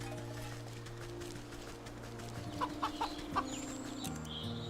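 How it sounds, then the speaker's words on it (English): A plump hen in the Wytchwood video game clucks in a few short, close bursts over a steady background of game music and ambient tones. "Chicken, a plump and happy hen."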